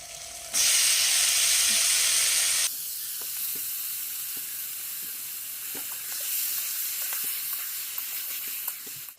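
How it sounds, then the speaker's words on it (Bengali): Taro (colocasia) leaves hit hot oil in a pan with a sudden loud hiss that settles into a steady, close sizzle with small pops, continuing for several seconds. "কচু শাকটা এখন আমি ভাজা বসিয়ে দিয়েছি"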